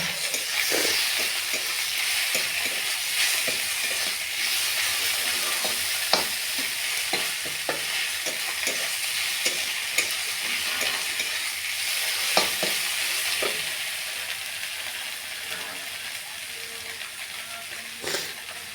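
Mashed taki fish fries in a wok with a steady, close sizzle, while a spatula scrapes and stirs in scattered clicks throughout; no one speaks.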